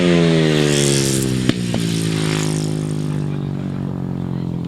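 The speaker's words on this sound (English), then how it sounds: "Really on song now, that's really screaming that engine, isn't it?" A grasstrack racing motorcycle engine screaming at high revs, a loud continuous whine that drops gradually in pitch as the bike passes, with a sharp click near the middle and a commentator's voice faintly underneath.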